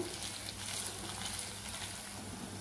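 Onions frying in a pan for a palak paneer curry, a steady soft sizzle and crackle running evenly throughout, quiet and close with no talk over it.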